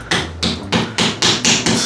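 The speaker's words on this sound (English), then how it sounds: "I feel like we need to get a better hammer, Jacob." A hammer striking repeatedly, about seven loud, sharp, close blows in a fairly even rhythm, each ringing briefly before the next, with no talk.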